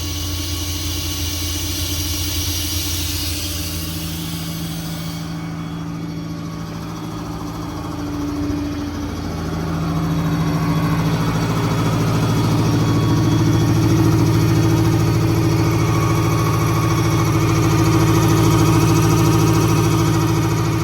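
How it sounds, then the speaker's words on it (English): Truck-mounted air compressor on a 2019 Ford F-550 4WD service truck with an IMT Dominator service bed, kicking on midway and running steadily over the engine's low idle hum. "the compressor starts up."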